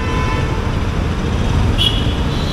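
A grey 2025 Bajaj RS200 motorcycle ridden through road traffic: a constant low engine and road rumble with wind noise, steady and loud, with one brief high horn-like tone partway through.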